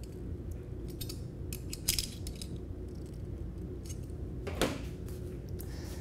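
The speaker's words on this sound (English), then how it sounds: "you can use the included wrench here and tighten it the rest of the way." A wrench tightens a fitting on a box vacuum chamber, with faint metallic clicks and scraping taps scattered over a quiet, steady background hum, close and without talking.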